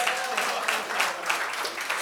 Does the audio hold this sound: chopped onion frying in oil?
no